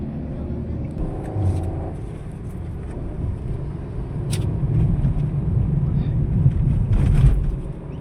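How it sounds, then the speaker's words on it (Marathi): From inside a car, road traffic rumbles past in a steady low drone with occasional louder swells as vehicles go by, and people talk faintly over the noise. "तेवढं ट्रॅफिक आम्ही पास करणार"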